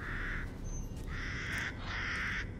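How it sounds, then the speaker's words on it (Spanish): In the Resident Evil Village video game, crows caw three times in quick succession near a stable, harsh, fairly close calls over a steady wash of background ambience. "Hay los cuervos."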